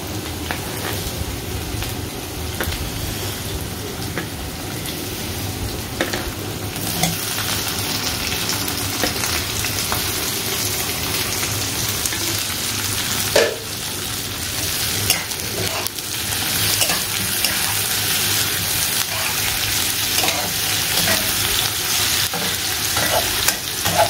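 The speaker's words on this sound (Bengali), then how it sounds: "এই লঙ্কা কুচিটা আর টমেটো কুচিটা দিয়ে দেবো।" Chopped green chili and tomato fry in a pan for whole masoor dal with chicken, giving a loud, constant rain-like sizzle with occasional stirring scrapes, no voices.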